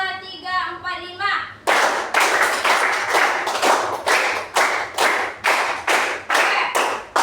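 After a brief spoken lead-in, a group of people claps in unison in a counted pattern, loud, crisp, close claps repeating at a steady pace until the end.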